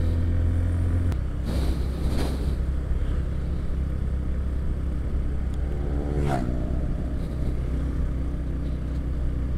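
A Honda CB150 Verza motorcycle rides toward a tea plantation, its engine droning on steadily with gear changes that rise and fall, along with wind and road noise, while traffic passes now and then.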